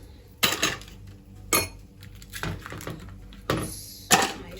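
Ice cubes dropped into a glass for iced coffee, several distinct clinking clatters spaced about a second apart, close and fairly loud.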